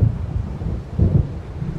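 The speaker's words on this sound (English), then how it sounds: "It seems there's a storm coming." Thunderstorm in the video game Alan Wake Remastered, a deep, loud rolling rumble of thunder swelling twice over a steady low wash of wind and rain.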